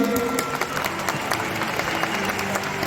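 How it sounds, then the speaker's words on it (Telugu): An audience at a sports event flag raising marking International Day of Persons with Disabilities, clapping steadily in a dense crowd patter, moderately loud with faint voices mixed in. "అదిగో గట్టిగా చప్పట్లు కొట్టండి"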